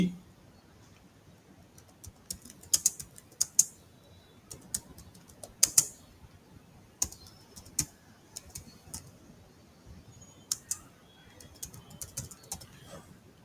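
Someone types a short motto on a computer keyboard: sparse, irregular light key clicks with a few sharper taps and pauses between bursts, quiet and close, with no talking.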